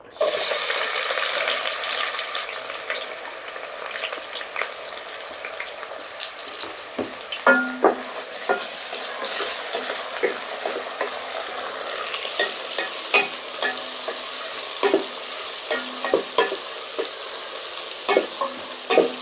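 Onions sauté in oil for chicken biryani, sizzling steadily up close for a long stretch while a spatula scrapes and clatters against the pan at irregular intervals, with no talking.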